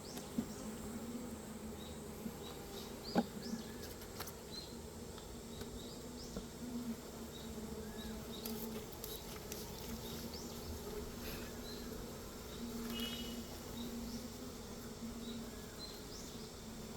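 A honeybee colony hums steadily at an opened hive after heavy rain, a weak colony in summer. The buzz is continuous and moderately close, with single bees zipping past now and then and no voices.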